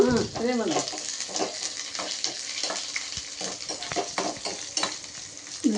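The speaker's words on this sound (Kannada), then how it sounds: "ಕರಿಬೇವಿನ ಸೊಪ್ಪು ಇದಿಷ್ಟನ್ನೆಲ್ಲ ಹಾಕಿ ಚಂದ ಫ್ರೈ ಮಾಡ್ಕೊಳ್ಳೋದು" Gandhari chillies and curry leaves fry in hot oil with a steady sizzle and the scrape of stirring, while a voice talks over the first moments.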